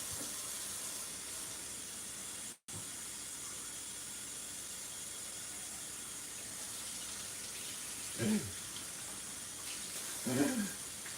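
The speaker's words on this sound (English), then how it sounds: "Water." A tap runs steadily with a continuous hiss of flowing water, briefly cut off once, with a couple of faint muffled knocks near the end.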